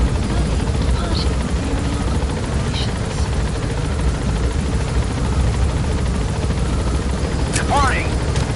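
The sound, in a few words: helicopter departing in Metal Gear Solid V video game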